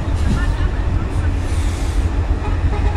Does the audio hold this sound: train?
yes